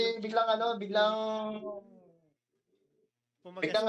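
Racing pigeons coo at a loft during the final lap of a pigeon racing championship in Tacloban, with soft repeated calls mixed with nearby voices, then a pause before more cooing and voices.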